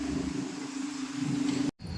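Light morning traffic passes through a town square, heard as a steady engine drone from a nearby vehicle that holds evenly, then briefly drops out near the end.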